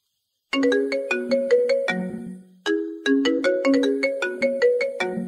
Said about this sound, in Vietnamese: Vừa lúc này có điện thoại vang lên.